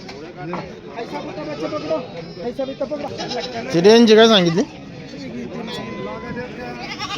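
At a goat market in Belhe, someone talks briefly, then a single loud, wavering goat bleat rises close by for about a second before the murmur of voices returns.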